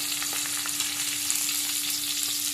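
Chopped onion added to green chillies frying in a pan gives a steady, close, hissing sizzle with a few soft stirring taps, over a constant low electrical hum and no talking.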